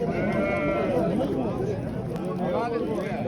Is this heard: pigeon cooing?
no